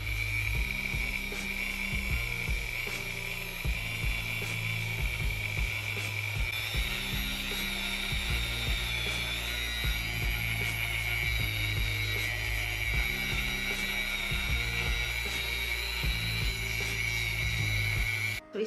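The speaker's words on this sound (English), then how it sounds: "we'll go ahead and sand the corners, make sure they're all looking great" A rotary sanding tool smooths the corners of small handmade earring pieces, giving a steady, close, high-pitched whine that runs the whole time over rhythmic background music.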